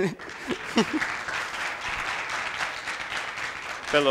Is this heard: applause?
yes